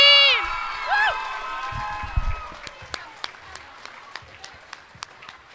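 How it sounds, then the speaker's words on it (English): Applause and cheering from a crowd for the class of 2019 at a Donview graduation ceremony, a sustained clatter of clapping that swells after a brief voice and carries on with scattered whoops. "let's give a round of applause to the class of 2019"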